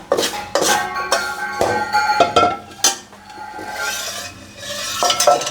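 Thick mixture stirred in a metal pot while cooking goat trotters, repeated loud clanks and scrapes of the spoon against the pot over a low sizzling bed, close by with no voices.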